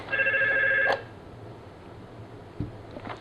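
A Yealink T22 desk phone rings for an incoming call with a bright electronic chirping tone that sounds once and then stops, followed by quiet room noise and a few soft clicks.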